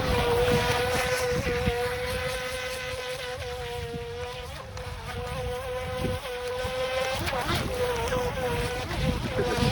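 Haiboxing HBX X03 RC speedboat with its electric motor whining steadily at high pitch as it races across open water, loud and continuous for the whole stretch, with brief surges and dips as it turns.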